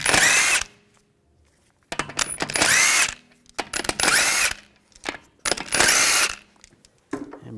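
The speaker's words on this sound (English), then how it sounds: "take these lug bolts out" A power tool with a 17mm socket spins out the wheel lug bolts on a 2007-2013 BMW 328i, giving four loud, close whirring bursts separated by short pauses and small clicks.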